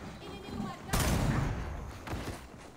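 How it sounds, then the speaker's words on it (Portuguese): A burst of gunfire from a video game played in a Brazilian gaming tournament, a loud sudden crack followed by a rumbling tail and a second, weaker shot, with voices talking underneath. "Deu um tiro."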